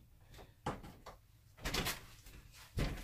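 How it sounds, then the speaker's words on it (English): A door thuds shut with a few quiet knocks and a rattle as it is secured and locked, close by in a quiet room, with no talking. "And lock the door so it doesn't keep opening on me."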